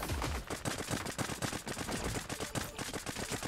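Rapid automatic gunfire from the shooter video game Creative Destruction, a fast run of sharp repeated shots with brief gaps, fairly quiet overall and with no talk over it.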